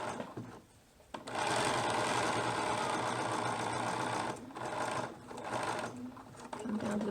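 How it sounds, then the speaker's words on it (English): A sewing machine runs a straight stitch beside a serged seam on ladies' pants, a steady close whirring hum that stops briefly and restarts several times, with a voice faintly underneath. "I'm going to go to straight stitch, and I just want to stitch right next to my serging"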